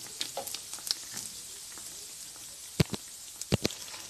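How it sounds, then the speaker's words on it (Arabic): Sugar beignet dough fries in hot oil with a quiet, faint bubbling sizzle and a few louder crackles and pops near the end, with no voices. "دابا غادي نبدا نقليهم"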